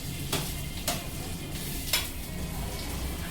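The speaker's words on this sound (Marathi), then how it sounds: "ह्या तुपात आपण हे सगळा मसाला घालूया" Spices including red chilli paste, cloves, pepper and bay leaf sizzling in ghee for veg pulao, a steady close hiss broken by a few sharp spoon knocks against the pan.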